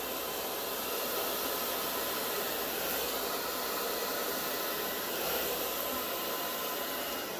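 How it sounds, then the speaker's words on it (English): A blow dryer is circled over an acrylic paint pour, giving a steady, moderately quiet airy whoosh that runs unbroken throughout with no one speaking. "So you see how I'm circling my blow dryer?"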